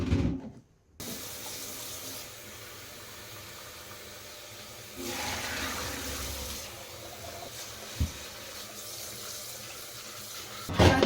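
Parboiled rice is washed under a running kitchen tap, a steady hiss of flowing water with a brief surge of splashing midway and small knocks at the end.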